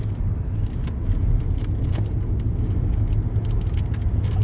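A worn car with tired rear springs rolls over bumpy back roads, a constant low rumbling engine and road drone with scattered knocks and rattles from bumps, heard close from inside the cabin.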